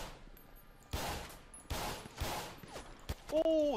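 Gunfire in a GTA V roleplay shootout: several loud bursts of shots crack out in quick succession, some clustered like a volley, with short gaps between and a few sharper pops near the end.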